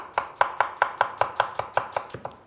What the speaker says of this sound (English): The Chinese style of onion cuts is different, on an angle